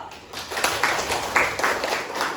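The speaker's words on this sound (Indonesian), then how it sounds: "Tepuk tangan dulu." A class in an Indonesian school practice session claps at the teacher's request, a short burst of scattered, close hand claps over a couple of seconds with a roomy echo.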